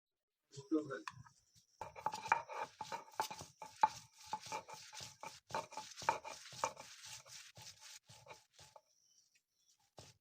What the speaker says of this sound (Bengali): এবার খারকনগুলোকে শিল্পাটায় বেটে নিতে হবে